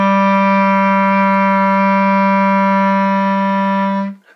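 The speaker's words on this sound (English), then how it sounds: "I love the low register of the clarinet. It sounds really meaty and yummy" A clarinet sounds a single sustained low A in its lowest register, rich and steady for about four seconds before cutting off cleanly, played solo and close with no talking.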